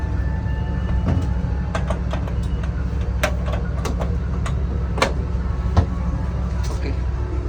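Motor transport train at Cirebon Prujakan station, a steady low rumble of railcars with sharp clanks and brief clicks scattered on top, close and continuous with no speech.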